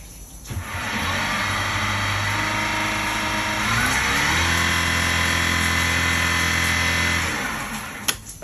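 A 20kW electric outboard motor is switched into forward gear and spins up to a steady, loud electric whine with a low hum. The pitch shifts partway through, and the whine winds down near the end. No one speaks.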